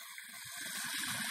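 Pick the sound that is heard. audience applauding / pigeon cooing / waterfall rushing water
waterfall rushing water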